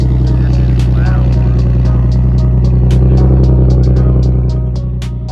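A loud, deep exhaust drone from an idling Nissan 370Z with a big exhaust, rumbling steadily with a slight rise and fall, accompanied by some faint clicks.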